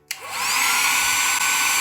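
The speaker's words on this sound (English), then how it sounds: "get a hairdryer, turn it on" A hair dryer clicks on and quickly spins up into a loud, steady whirring blow of air that holds constant for the rest of the moment.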